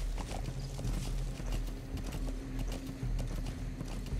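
Horse hooves clip-clopping at a steady trot in the Metal Gear Solid V game, a regular rhythmic clatter of hoofbeats with occasional snorts over a low background rumble.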